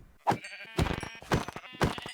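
Sheep bleating in Minecraft, several loud close bleats in a quick series with no talk over them.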